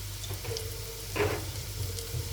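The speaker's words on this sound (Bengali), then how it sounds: "তো এই যে মাছের জন্য মশলাটা কষিয়ে নিতেছি" A spice paste for fish curry fries in a pan with a soft, steady sizzle at close range. A brief stir or scrape breaks in midway.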